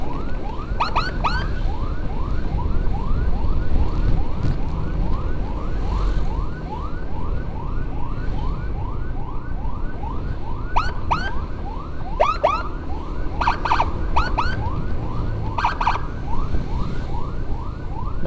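An ambulance siren wails in a repeating rising warble during an escort through traffic in Tasikmalaya, loud and steady, with a few sharp horn or yelp bursts cutting in and road rumble underneath.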